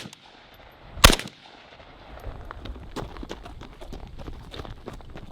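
A Zastava N-PAP DF underfolder AK rifle fires one loud, sharp shot early on, followed by shuffling footsteps and movement on the range, moderately close.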